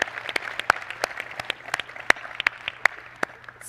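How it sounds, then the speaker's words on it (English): A thin scatter of audience clapping at a keynote event, with individual sharp claps distinct rather than a dense roar, moderately close and continuing at an even pace throughout. "Let's take a moment and give this A-team a big round of applause"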